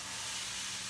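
Crepe batter sizzles in a hot pan with a steady, faint, broadband hiss that holds even throughout.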